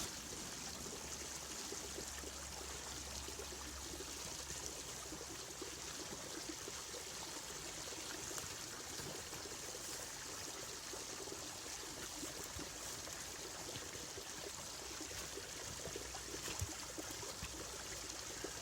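Creek water flows near a wooden waterwheel flume under construction for a microhydro setup, giving a constant broadband rushing and trickling that stays steady and fairly soft throughout.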